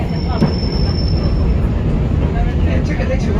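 Heritage tram nearly 88 years old running on rails through Christchurch, a steady loud rumble of wheels with faint squeals and a high whine throughout.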